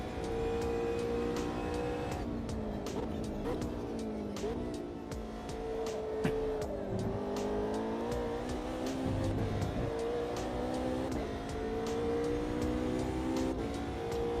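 Race car engine in the Automobilista 2 sim racing game, driven without traction control with some understeer, holds a steady loud drone, its pitch rising and falling through shifts and corners.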